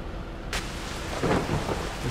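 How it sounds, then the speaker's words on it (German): Heavy rain pours steadily in the Cattle and Crops farming video game, and a loud thunder crack breaks in at about half a second, followed by rumbling that rolls on beneath the downpour. "Jetzt regnet es wieder so stark,"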